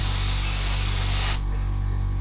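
Aerosol spray paint hisses steadily while shading a scale model Star Destroyer, a continuous close, loud spray that cuts off sharply partway through, leaving only a low background hum.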